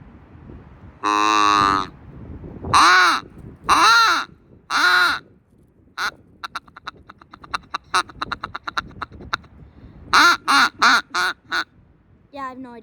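A Flextone rubber turkey locator call is blown in loud, close, raspy honking bursts, then rapid chattering notes and another run of strong calls.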